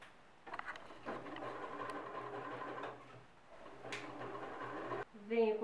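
A sewing machine runs a zigzag stitch along the edge of fabric pieces placed right sides together for a zippered pouch, whirring steadily in two bursts with a short pause between, close and moderately loud.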